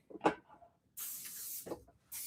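Cooking spray misted onto an open waffle maker: two short hissing bursts of the aerosol can, close and fairly quiet, separated by a brief thump and a pause.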